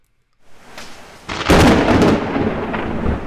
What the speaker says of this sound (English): So we have thunder, a bit of thunder.